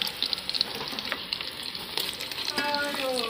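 Whole quail frying in a pan of hot oil, a steady close sizzle with crackling pops and a few light stirring scrapes, growing a little louder near the end, no talk.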